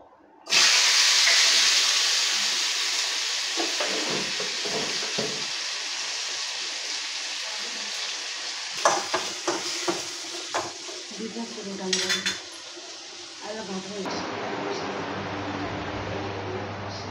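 Panch phoron spices hit hot oil in a home kitchen, bursting into a loud, close sizzle that slowly settles into a steady hiss, broken by stirring clatter and scraping from a pan.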